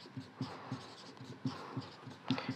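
A pen scratches across paper while a Class 8 math problem is solved: quick, close, rhythmic strokes and taps in irregular bursts, quiet, with no talking.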